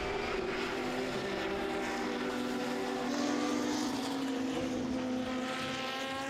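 Volkswagen touring race car in the FIA CEZ race at the Most circuit, its engine note rising and falling steadily as it passes through, heard at a distance with no talking.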